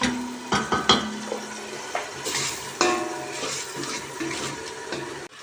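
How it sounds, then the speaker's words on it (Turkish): Onions sautéing in a pan for a spinach soup, with a soft sizzle under scraping and stirring clatter from a utensil against the pan, several sharp knocks near the start and then steady frying. "Mis gibi soğan kavuruyor."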